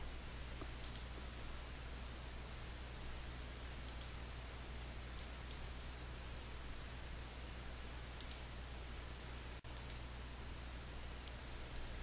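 Several faint, isolated computer mouse clicks sound at irregular intervals over a low electrical hum, spaced seconds apart, as someone works in ERP software.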